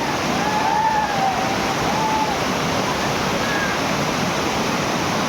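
A waterfall roars in a dense, unbroken wash of falling water, with brief distant voices calling out early on.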